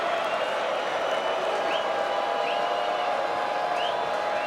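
A large pro-Alabama crowd at a college football game in Nashville against Vanderbilt gives off a steady, even wash of applause and crowd noise that holds at the same level throughout, with no clear single voices rising above it.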